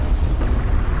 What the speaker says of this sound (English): this might be a good opportunity to use a missile